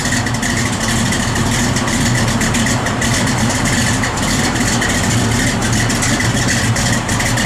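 A 1964 Chevrolet C10 pickup's engine runs steadily up close, a loud continuous low rumble that stays fairly even throughout with no clear separate rev peaks.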